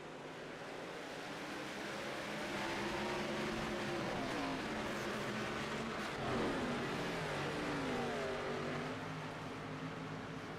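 A pack of ARCA stock cars accelerates at the green flag start at Atlanta. Their engines blend into a steady, somewhat distant roar, with rising pitches sweeping up as the cars gain speed.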